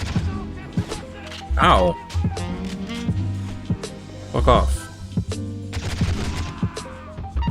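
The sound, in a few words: gunshots in a video game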